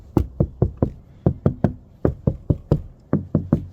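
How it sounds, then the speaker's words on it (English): Rapid series of sharp hollow knocks on the metal door panel of a Chevrolet Express or GMC Savanna van, about a dozen blows in uneven bursts, close up with no talking. "if you knock the doors or walls, it's a different sound"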